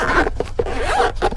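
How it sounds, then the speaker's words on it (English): A zipper is pulled open along the case of an Avapow 6000a emergency jump box, a loud close ratcheting rasp lasting about a second. "zipper right here,"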